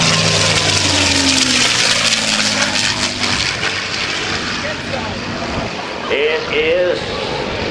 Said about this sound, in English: an unusual sound, but like I said, there's no mistaking the P-51D Mustang